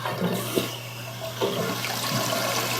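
A household toilet flushes up close, a steady rushing wash of water running throughout with a few small knocks and gurgles, no voices over it.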